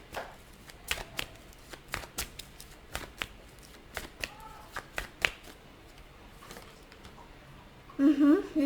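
Tarot cards are shuffled and drawn in a quiet room as a string of crisp snaps and riffles. A brief voice comes in near the end.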